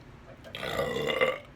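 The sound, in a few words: burp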